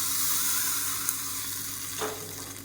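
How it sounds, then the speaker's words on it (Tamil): Sizzling tempering of mustard seeds, urad dal, dried red chilli, curry leaves and asafoetida for a chutney, a steady close hiss of hot oil that runs the whole time with a small clatter near the end. "எப்பயும் போல் கடுகு உளுந்து வரமிளகா கருவேப்பிலை பெருங்காயம் போட்டு தாளிச்சிருக்கேன் இது அப்படியே இதில் சேர்த்துக்கலாம்"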